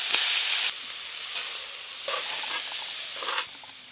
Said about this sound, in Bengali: জল তো শুকিয়ে গেছে আর লাল শাকও কিন্তু বেশ ভালো করে ঝরঝরে হয়ে ভাজা হয়ে গেছে